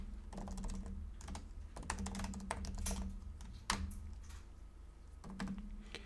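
Steady typing on a computer keyboard while Python code is written, with dense rapid key clicks and occasional heavier taps, close and clear, accompanied by a low steady hum throughout.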